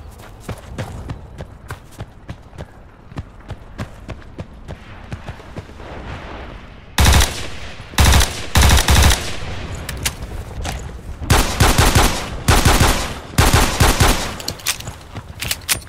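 Assault rifle gunfire in the online shooter Battlefield Play4Free: sporadic quiet shots and footsteps early on, then loud bursts of automatic fire from about seven seconds onward, arriving in rapid clusters with short gaps between them.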